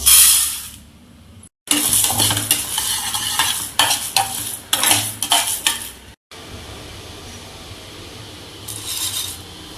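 Chana dal roasts in a pan with a little oil, stirred by hand with repeated rhythmic scraping strokes over a light sizzle, broken by a couple of brief silent gaps.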